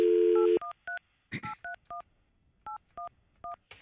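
Telephone keypad dialing to call a store: a held dial tone cuts off, then a quick run of about a dozen short touch-tone beeps in uneven clusters, loud and clear with no talking.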